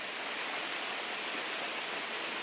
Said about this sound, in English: it just started raining like the sky unzipped